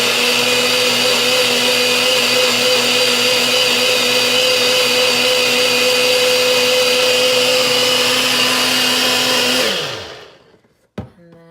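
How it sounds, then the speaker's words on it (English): A personal countertop blender with a small top runs at a loud, steady whine for about ten seconds before winding down and stopping, followed by a few faint clicks. "And then I just put my little blender top on there and I shake it a little by hand first"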